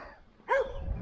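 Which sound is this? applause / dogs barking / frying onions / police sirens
dogs barking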